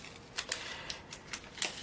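Drill bits are poured out of a container, giving a quick run of light metallic clinks and rattles, faint and close, with no talk.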